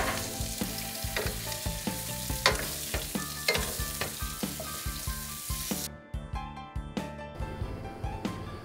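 Andouille sausage, 4.5 ounces, browning in a hot pan on a Scottsdale grill over a peach wood fire, giving steady loud frying and sizzling with frequent sharp crackles and pops, no talk, quieting slightly near the end.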